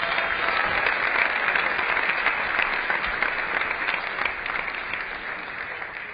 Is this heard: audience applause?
yes